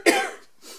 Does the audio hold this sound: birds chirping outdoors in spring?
no